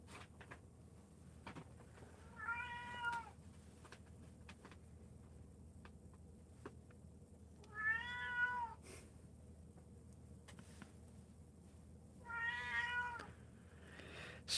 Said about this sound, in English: she only has one meow. And it's kind of like a cat yell